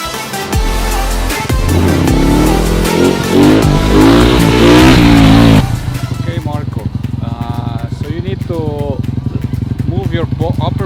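A motorcycle engine revs loudly and close as the throttle is pumped during first-gear wheelie practice, its pitch rising and falling in repeated surges, with a voice talking over the later part.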